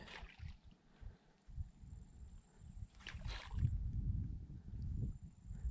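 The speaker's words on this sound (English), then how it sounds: "this wind is rolling" Wind blows across a Louisiana marsh during kayak fishing, a low, uneven rumbling buffet that swells and fades in gusts, fairly faint overall.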